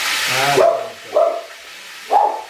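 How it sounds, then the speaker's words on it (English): A dog barks three times, close and loud, evenly spaced with short pauses between, the first bark preceded by a brief whine-like sound. "The dog needs to go out."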